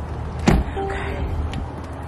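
A car door shutting once with a solid thump as someone gets into the vehicle, followed by faint interior rustling and a brief creak, close by with no talking.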